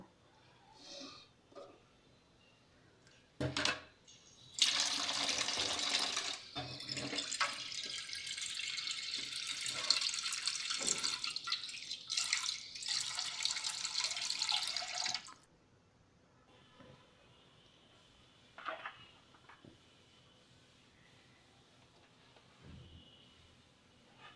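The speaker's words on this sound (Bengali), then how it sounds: "এবার এই পাত্রগুলো ধুয়ে রেখে দেব" Cooking pots are washed under a running kitchen tap after lunch, with water gushing and splashing steadily for about ten seconds between quieter clinks and drips.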